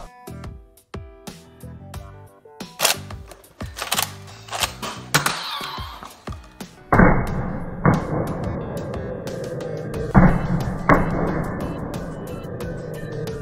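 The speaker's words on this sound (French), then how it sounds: "C'est marrant, ça fait des tirs de blaster." Nerf Star Wars blaster sounds: sharp clicks and snaps early on, then several loud electronic blaster-shot effects with buzzing tails in bursts, close by and alone.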